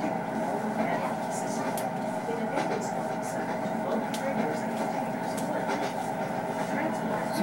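A Norfolk Southern diesel-electric locomotive train running on track, a steady rumbling roar with faint rail clicks throughout, heard from inside over continuous background noise.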